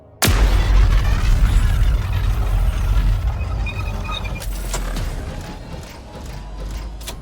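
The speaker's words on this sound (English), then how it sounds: "The other unused Forerunner weapon is the classic Sentinel Beam, and holy moly, listen to this firing sound." Loud Sentinel Beam fire from Halo Infinite: an abrupt heavy blast opens a sustained roaring, crackling energy stream with mechanical whirring textures, then a second sharp burst near the end.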